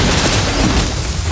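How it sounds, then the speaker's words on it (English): A loud, dense blast as a turret is destroyed in the mobile game Mobile Legends, a boom that fills the whole short moment without a break. "Our turret has been destroyed."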